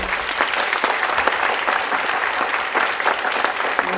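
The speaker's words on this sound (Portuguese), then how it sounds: "uma salva de palmas para a nossa presidente" Applause from the audience at an international arbitration congress, honouring the congress president, a steady patter of many hands clapping at moderate volume throughout, with no voices over it.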